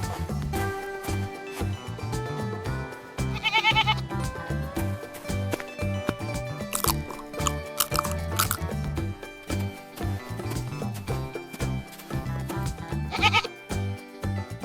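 A couple of short goat bleats rise above continuous background music, brief and moderately loud.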